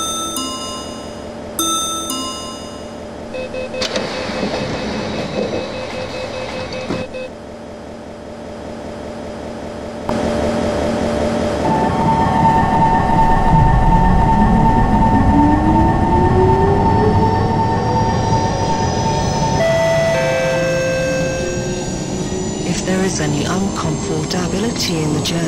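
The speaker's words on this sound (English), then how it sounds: "The train doors are about to close. Please stand clear of the closing doors." In the OpenBVE simulator, electronic tones and a recorded announcement play as the train doors close, followed by a rising motor whine as the metro-style train pulls away and gathers speed.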